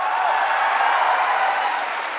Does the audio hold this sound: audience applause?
yes